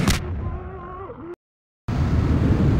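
Grenades explode in a pit of zombies in Half-Life 2: Episode Two. A sharp burst opens, followed by a wavering groan. After a brief dead silence, a rough, rumbling roar of noise continues.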